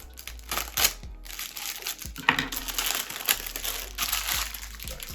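A plastic parcel bag from a lost-mail package is opened by hand, giving loud, close, continuous crinkling and rustling in irregular bursts, with no talk.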